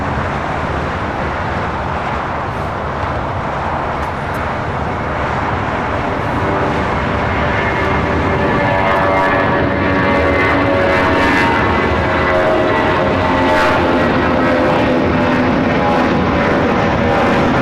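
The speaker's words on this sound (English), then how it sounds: "That is United Airlines 2431 taking off to Jackson on the A320." A United Airlines Airbus A320 taking off at LAX makes a strong, continuous engine roar that builds in intensity over the stretch, with faint background traffic and no talk.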